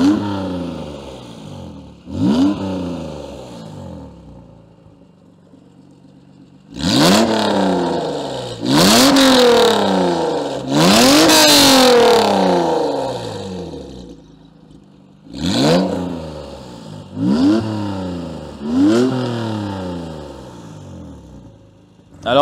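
A Honda NSX V6 revs hard in repeated blips, from short early bursts to long sustained howls and sharp throttle stabs, loud and close, dropping back to a smooth idle between pulls.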